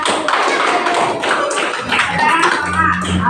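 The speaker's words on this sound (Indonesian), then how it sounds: "Kasih tepuk tangan." A classroom of students claps hands together in a lively, uneven burst of close clapping, mixed with children's voices talking over it.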